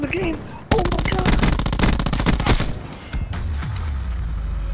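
A rapid burst of automatic gunfire in a video game hammers out for about two seconds, loud and close, followed by a few scattered shots and a quieter stretch.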